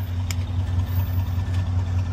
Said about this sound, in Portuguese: Chegou o quarto carro.